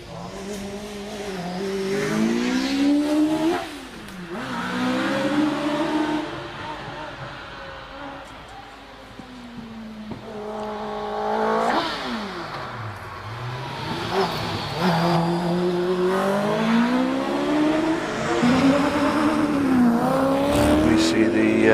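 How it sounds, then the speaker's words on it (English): A Westfield SE1 race car with a 2-litre engine climbs Prescott hill, its engine revving hard and dropping repeatedly through gear changes and braking, with tire squeals, loud and close, under a commentator's voice. "Jerry Neary 144 is in the Westfield SE1, the 2 litre engined Westfield."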